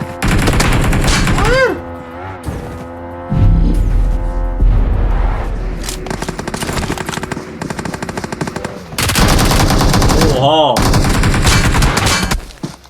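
Heavy automatic gunfire in the mobile battle royale game PUBG Mobile, long loud rattling bursts broken by short pauses, with a few whooshing and swept effects between volleys.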